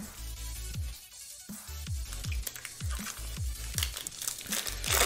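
Foil wrapper of a Magic: The Gathering Ikoria booster pack being torn open and handled, giving crisp crinkling and crackling that builds in loudness, with soft repeated thumps beneath and no talk.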